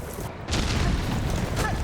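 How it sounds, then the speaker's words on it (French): An explosion goes off in the video game Hollow Knight Silksong: a sudden loud boom followed by a sustained rumbling roar, heard close. "ça sert à quoi de mettre des explosions comme ça?"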